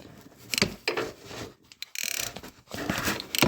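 Ratchet wrench tightening and backing off a spark plug on a Honda Pioneer 500, heard as close, irregular bursts of clicking and rubbing metal, alone without talk.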